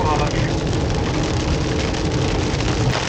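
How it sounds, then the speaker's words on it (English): Hail drums steadily on a hard surface near the Grand Canyon, a dense, even patter that holds at the same level throughout. "Oh, there it is, it's hailing."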